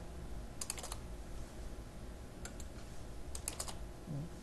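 Keys on a computer keyboard clack in short, quick clusters as code is typed. The bursts are separated by brief pauses over a quiet room background.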